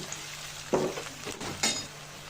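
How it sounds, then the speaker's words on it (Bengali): Raw onion paste fries in a pan with a soft, steady sizzle, broken by two short spatula scrapes, fairly quiet and close. "কাঁচা পেঁয়াজটা ভালো করে ভেজে নিব,"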